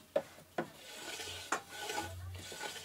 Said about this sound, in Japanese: 組み上がった足の面取りをしていきます。